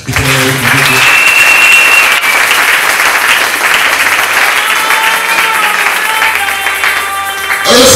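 A church congregation bursts into sustained applause and cheering, a dense, loud wall of clapping that holds steady for most of the stretch before dropping off abruptly near the end, with some voices mixed in.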